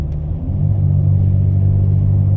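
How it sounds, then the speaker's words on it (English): Exhaust drone from a Dodge Challenger GT fitted with a Cherry Bomb Extreme muffler, heard while downshifting with paddle shifters: a loud, steady low hum that swells slightly after the first half-second and then holds, with no talking. "That's the humming noise you hear in automatic sometimes."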